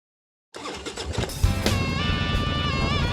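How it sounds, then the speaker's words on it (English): A motorcycle engine starts abruptly and revs loudly and close, its roar rising and holding steady with a throaty, rumbling pitch over a few seconds, with no talking. "Kickstart that engine and roll thunder with the pack."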